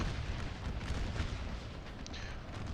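Artillery fire rumbles in Total War: Napoleon on an American Civil War battlefield, a continuous low booming din of distant guns with a brief sharper crack near the end, moderately quiet and without talk.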